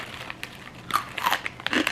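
A Reese's peanut butter cup bitten and crunched in a few crisp, close bites over two seconds, each snap followed by brief chewing.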